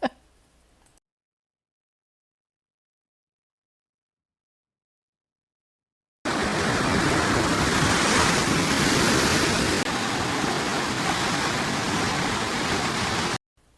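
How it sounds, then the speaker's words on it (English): Windy Lake Superior shore with waves crashing, a loud continuous roar of surf and wind that starts abruptly after a stretch of silence and holds steady before cutting off. "Very windy, the waves were crashing and waving"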